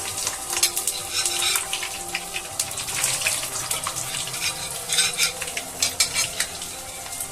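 Chicken pakora pieces frying in hot oil, a dense, continuous crackling sizzle with bright bubbling spits throughout, close and fairly loud, with no talking.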